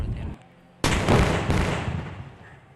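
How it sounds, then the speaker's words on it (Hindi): A bomb blast in the Indian Bike Driving video game: a single loud, sudden explosion that booms and then rumbles as it fades over about two seconds. "यार बम फोड़ देना।"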